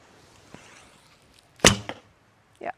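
An arrow shot from a Korean traditional sport bow hits its target with one sharp, loud thwack, followed by a short rattle and, a moment later, a second smaller impact, with quiet all around.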